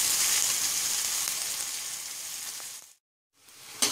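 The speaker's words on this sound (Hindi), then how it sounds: "और प्याज को तब तक भूनेंगे जब तक इसका रंग गोल्डन ब्राउन नहीं हो जाता, तब तक हम प्याज को भूनते रहेंगे" Onions sizzle and fry in a pan while being stirred continuously, a steady loud hiss that briefly cuts out and then resumes, with no talking.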